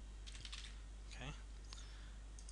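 Someone types a password on a computer keyboard, a few quiet key clicks in scattered bursts over steady background hum, with no talking.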